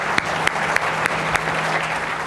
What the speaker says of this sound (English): Can we please give a round of applause to Chef David Burke